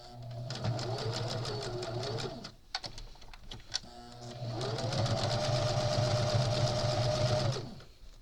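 A sewing machine stitching crazy quilt blocks together, with two steady humming runs of stitching separated by a brief pause with small handling clicks.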